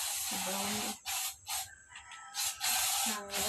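A spray can hisses in several loud, close bursts separated by short pauses.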